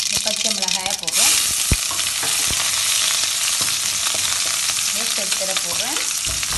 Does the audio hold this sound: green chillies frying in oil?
yes